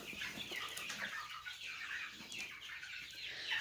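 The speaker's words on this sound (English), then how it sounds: "Hello, little chickens. These will be the layers. A new round of layers." A new flock of young layer chickens chirps and clucks nonstop close by, with high-pitched calls overlapping in a busy, even chorus.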